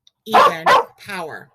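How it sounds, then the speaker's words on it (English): A dog barks nearby in two loud bursts followed by a shorter whining yelp, with a person talking in the room as well. "Sorry about the barking, guys."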